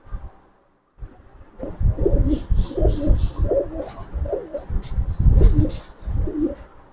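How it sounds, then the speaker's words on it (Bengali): Pigeons of a fancy breed coo in repeated low throaty phrases, close and loud, with some bird chirps and faint rustling around them. "কবুতর ডাকলেই সুন্দর লাগে"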